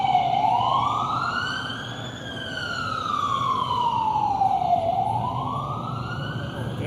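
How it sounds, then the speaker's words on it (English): An emergency vehicle siren wails loudly outside, its pitch sweeping slowly up and down in long cycles as it passes close by, drowning out the surroundings for several seconds. "there's some sirens going on."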